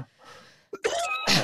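A person coughs harshly, with a short breathy lead-in followed by two loud, close, explosive bursts in quick succession.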